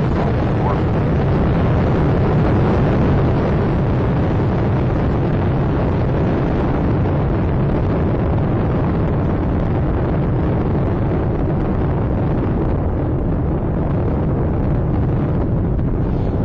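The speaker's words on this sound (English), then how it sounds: "Atlantis on its way, all three engines now throttling down as the vehicle passes through the area of maximum dynamic pressure" Space Shuttle Atlantis launch: a loud, continuous broadband rocket-engine roar rumbles steadily throughout, dense and unbroken with crackling texture, with faint voice commentary beneath.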